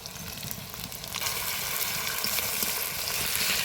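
Garlic paste, chopped tomato and ground ginger hitting hot oil in a frying pan, with a steady loud sizzle that swells after the first second and carries on evenly to the end.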